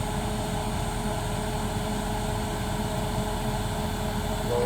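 A Dometic RV furnace runs steadily, its blower pushing hot air with a constant broadband whoosh and a low mechanical hum, loud and unbroken throughout.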